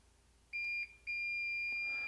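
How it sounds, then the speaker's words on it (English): Multimeter continuity beep while testing ground on an Xbox Series X power supply: a short high electronic tone, a brief gap, then a longer sustained beep, clear and close over a quiet background. "So first I'm going to test ground. You should hear a beep."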